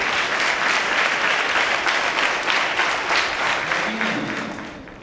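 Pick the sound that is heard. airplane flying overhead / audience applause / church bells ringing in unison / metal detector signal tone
audience applause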